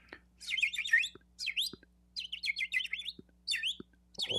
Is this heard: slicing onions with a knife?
no